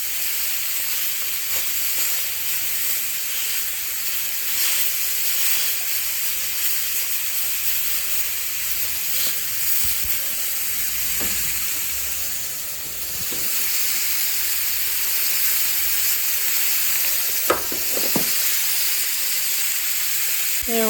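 Food frying in avocado oil in a home kitchen, a steady broadband sizzle and hiss running throughout with a few brief clinks near the end, no talking.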